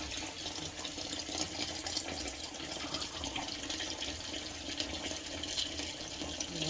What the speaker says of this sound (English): Continue to wash the rice. So the water becomes clear.